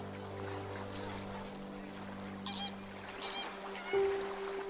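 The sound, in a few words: water birds on a lake, geese honking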